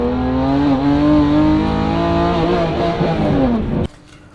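A BMW E90 328i with an N52 engine and a faulty GM automatic transmission revs loud and close, its engine note lurching through harsh shifts before cutting off abruptly.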